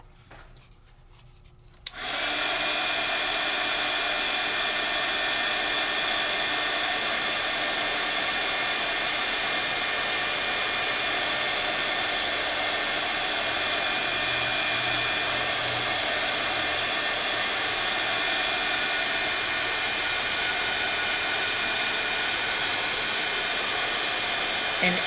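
A heat embossing tool blows a steady, loud stream of hot air over embossing powder on a stamped card, starting abruptly after a quiet moment and continuing evenly throughout with no talking.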